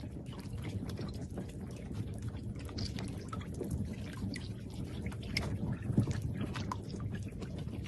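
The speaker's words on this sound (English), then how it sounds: "Those clicks you've just heard were calls made by baby giant Amazon River turtles swimming together and vocalizing" Baby giant Amazon River turtles swim together underwater, giving faint scattered clicks amid a murky watery wash and bubbling, with occasional sharper ticks, quiet and without voices.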